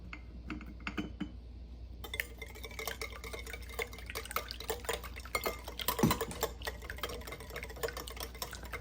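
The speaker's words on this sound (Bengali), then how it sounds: "আমি এখানে ভালো করে ডিমগুলোকে ফেটিয়ে নেব।" Eggs being beaten by hand in a bowl for a Noakhali-style pantua pitha batter, a steady run of quick clicking strokes against the bowl, close and fairly quiet, with no talking.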